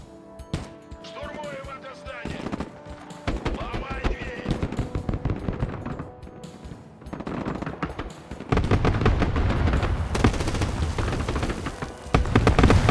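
Gunfire and grenade launcher blasts in the military strategy game Broken Arrow, rapid bursts of shots and booms layered into a dense, rising barrage under a player's excited commentary.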